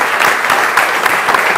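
A lecture audience at a rabbi's talk breaks into loud, dense, sustained applause, many hands clapping together close by and steadily throughout, with no voices heard over it.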